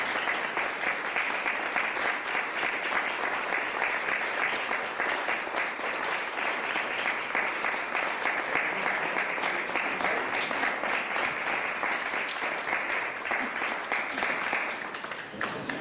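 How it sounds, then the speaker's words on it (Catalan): Sustained, even applause from an audience at the presentation of a poetry book, many hands clapping steadily for the whole stretch with no break. "demanem que ens fa l'aplaudiment també per mi"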